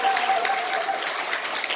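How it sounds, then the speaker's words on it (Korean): Audience at a national assembly launch ceremony applauds, a steady, moderately loud wash of many hands clapping throughout, with a faint steady tone underneath. "우리 박인숙 중앙위원님께 그동안에 너무 고생했다고 큰 박수 한번 부탁드리겠습니다."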